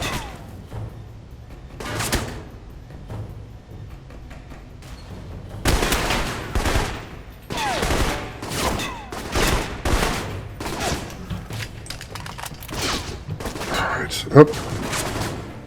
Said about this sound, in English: These guys really do love their grenades.